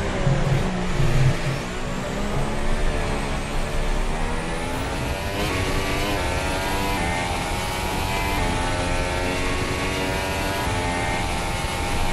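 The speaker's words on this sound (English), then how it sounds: "You can hear the anti-stall kicking in there again." A high-revving 2015 Williams FW37 Formula 1 engine in a video game drones steadily, its pitch sweeping and wavering as the anti-stall engages and the revs rise and dip, loud and continuous throughout.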